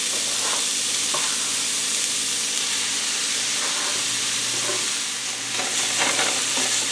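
Seasoned ground hamburger meat browns in a pan with a steady, dense sizzle and hiss throughout, close and fairly loud, with occasional scraping stir noises and no talk.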